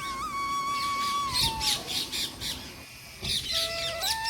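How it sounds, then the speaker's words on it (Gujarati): Shrill, repeated parrot squawks and whistling calls ring out over a steady, quiet outdoor background in a garden, several bursts in quick succession, fairly close. "તમને પોપટનો અવાજ બેકગ્રાઉન્ડમાં આવશે"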